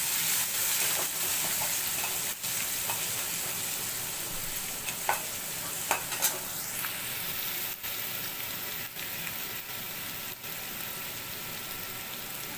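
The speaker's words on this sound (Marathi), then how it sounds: "आता आपण हे सगळं मिक्स करून घेऊया थोडंसं तेलावर" A falahari misal mixture with chutney is stirred in a little oil, giving a steady, moderate sizzle marked by occasional scraping taps of the spoon against the pan.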